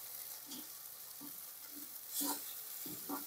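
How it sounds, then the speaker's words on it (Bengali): Masala with cashew paste stirred in a pan for an egg pepper fry, heard as a faint, quiet sizzle with a handful of soft, scattered spatula scrapes, one slightly louder near the end. "দিয়ে আবার একটু নেড়ে চেড়ে নেব"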